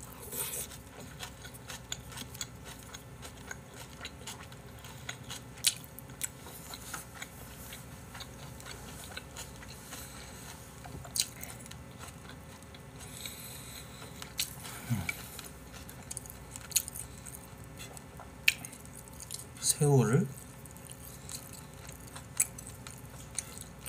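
Aglio olio pasta and steak being chewed close to the mouth, soft wet mouth sounds and small clicks scattered steadily through the quiet, with one louder squelch near the end.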